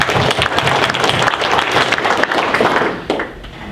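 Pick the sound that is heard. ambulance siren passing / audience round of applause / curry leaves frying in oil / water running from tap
audience round of applause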